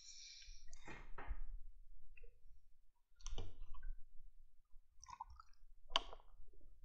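Nails being driven for building centerline marking on a construction site: a few separate hammer strikes and clicks, spaced a second or more apart, fairly faint, with no talk.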